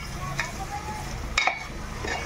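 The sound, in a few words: stirring chopped onions with salt in a pan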